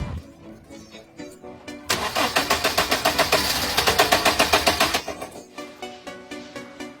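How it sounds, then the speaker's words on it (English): A car that won't start cranks during a start attempt with its fuel line disconnected: loud, rhythmic starter churning lasts about three seconds without catching, with no talk. "Have the owner try to start the engine"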